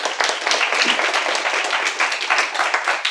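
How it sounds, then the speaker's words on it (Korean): A university Python programming class claps together, lively dense applause from a room of students, loud and continuous throughout. "박수 부탁드려요"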